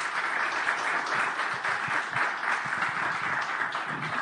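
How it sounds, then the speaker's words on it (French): Steady applause from a roundtable audience at a French cybersecurity conference session on SOC automation, a dense, even wash of many hands clapping throughout with no voices over it. "Merci messieurs, on peut les applaudir,"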